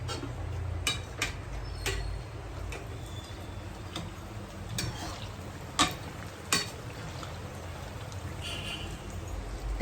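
Punugulu batter fritters frying in hot oil, a steady bubbling sizzle broken by sharp crackling pops at irregular moments, heard up close.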